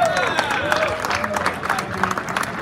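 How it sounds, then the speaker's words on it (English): Crowd applause at a Guinness world record attempt for eating ghost peppers, clapping and cheering mixed with voices, moderately loud and continuous for a few seconds. "Big round of applause for Mike Jack"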